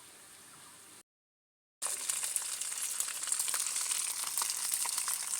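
Onion and garlic fry in hot oil with a steady crackling sizzle, cut briefly by a moment of silence before returning louder and continuing evenly, close and with no voices.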